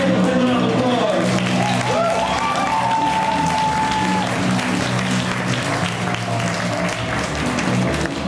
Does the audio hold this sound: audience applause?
yes